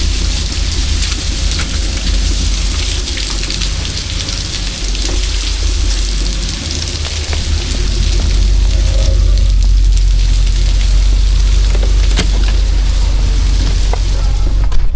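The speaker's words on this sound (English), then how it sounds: "Freaking rain." Heavy rain pouring steadily outdoors, a loud dense continuous hiss with low rumbling beneath, growing slightly heavier partway through, with no talk.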